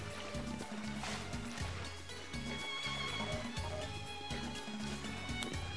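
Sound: fast swimming through water in the video game Kingdom Hearts

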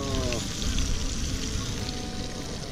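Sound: catfish frying in hot oil

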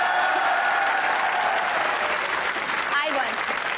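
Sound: studio audience applause

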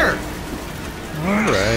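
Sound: character burning in a video game

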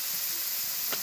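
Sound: prawns dropped into hot oil sizzling

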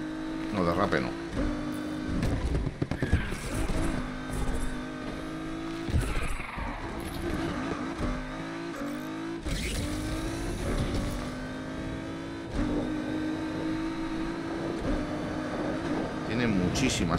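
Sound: race car driving and skidding in video game Need for Speed Unbound

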